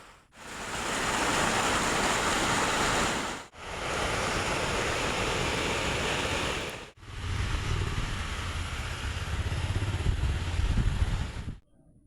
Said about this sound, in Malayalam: ഈ ചോലയിൽ കൂടി വെള്ളം ഇങ്ങനെ ഒഴുകി പോകുന്ന സൗണ്ട് ഇങ്ങനെ നമ്മളെ വീട്ടിലേക്ക് കേൾക്കും കേട്ടോ.